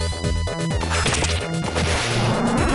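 Repeated smashing hits land on a protruding object in the Streets of Rage 2 video game, a loud, dense run of punchy impacts over busy game music.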